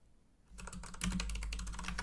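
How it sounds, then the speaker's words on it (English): Quick, close typing on a computer keyboard, a dense run of clicking keystrokes that starts after a brief quiet moment and grows louder and busier, with no talk. "What else should I try typing in?"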